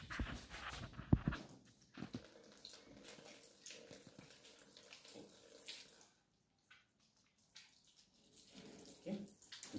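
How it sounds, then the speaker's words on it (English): Running tap water and hand washing at a sink during a clinical catheterization procedure, a steady watery splashing with small bumps and clatters, fading to near silence midway before resuming faintly. "You can remove the gloves and then do the hand wash."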